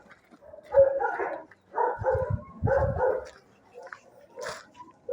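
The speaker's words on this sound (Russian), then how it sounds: "собака." A dog, just arrived after transport in a carrier, barks and yips in several short bursts, close and moderately loud, with brief gaps and some low huffing between them.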